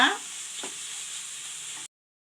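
Broadband sizzling of masala frying in a pan with a soft stir or scrape near the start, steady and close, no talking.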